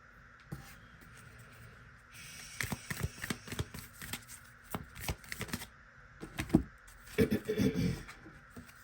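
Moonology oracle cards being shuffled by hand, soft papery riffles and taps that start faint and grow into denser bursts of flicking and slapping, close to the listener, with no talk.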